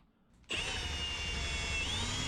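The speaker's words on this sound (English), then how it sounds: "So I'm going to go ahead and drill the 2 screws for the handle" A power drill starts abruptly after a brief quiet moment and whines steadily and close up while boring screw holes for a boat's main hatch handle, holding a high even pitch until the end.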